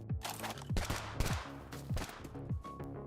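Minigun fire in the video game Bullet League, heard as several sustained rattling bursts with sharp reports and tails, moderately loud and close, with no talk.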